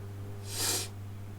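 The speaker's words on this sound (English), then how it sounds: "I gotta stop sniffling. It's driving me crazy." A single short nasal sniffle, close and quiet, rising briefly over a low steady hum.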